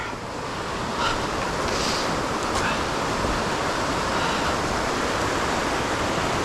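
River rapids at the entrance area of a river in Ohiopyle in December rush with a dense, steady roar of water, close and unbroken with no talk.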